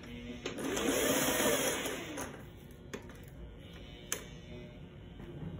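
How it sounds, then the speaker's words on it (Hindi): A sewing machine stitches fabric dori loops onto a garment neckline in one close, humming run of about two seconds, followed by quieter handling clicks and taps. "हम ऐसे रखते हुए सिलाई लगाते जाएंगे डोरी को"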